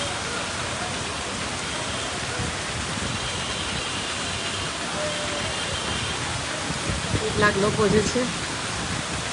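Steady rain at Gomti Ghat in Dwarka, a dense even hiss of falling water throughout, with a brief faint voice near the end.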